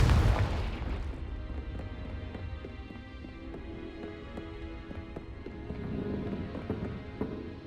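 Confringo fire spell explosion in Hogwarts Legacy, a loud booming blast at the start that decays into a long rumbling, ringing tail with faint scattered debris and clatter.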